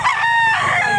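A short burst of rooster crowing sounds near and loud against a busy, noisy chicken market background in Lipa, Batangas.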